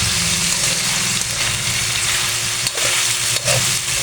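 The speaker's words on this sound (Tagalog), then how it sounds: "Medyo ipapabrown natin yung karne." Meat browning for pinakbet sizzles and fries steadily in a hot pan, a loud continuous crackle with occasional stirring scrapes and no talk.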